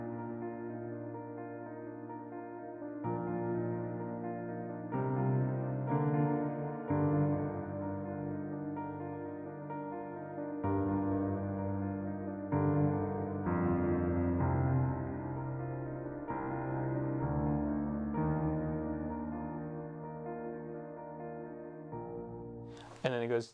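Piano chords for a worship song, played as a sustained, steady progression with shifting harmonies and a brief turnaround, heard alone at moderate volume.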